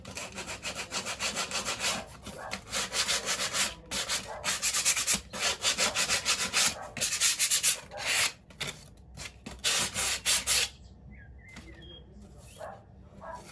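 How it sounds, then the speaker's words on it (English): Plywood hand-sanded with a sheet of sandpaper: loud, close, rhythmic back-and-forth scratchy strokes in repeated bursts, broken by short pauses, ending in quiet with a few faint taps, and speech can be heard at points. "So I just sand it down a little bit."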